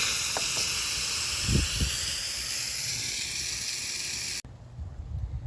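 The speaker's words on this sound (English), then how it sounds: "so let's quick release the steam." An Instant Pot venting steam in a quick release after pressure cooking, a loud steady broadband hiss that runs unbroken for several seconds, then cuts off abruptly, leaving quieter room noise behind.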